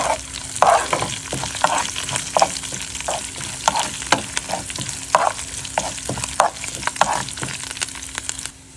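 Mustard and other spices sizzle and crackle loudly in hot sesame oil, with repeated scraping stir strokes in a steady rhythm and a faint low hum underneath.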